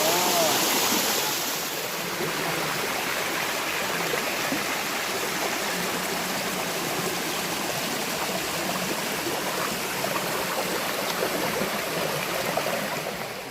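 Buatong waterfall pours with a continuous, loud, broadband rush of water close at hand, steady throughout with no pauses.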